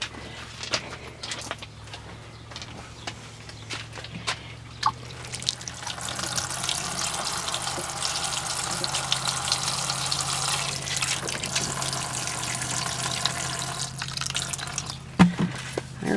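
Water running steadily from a tap or hose while watering garden plants, a continuous moderate splashing flow starting partway through with occasional faint bumps around it.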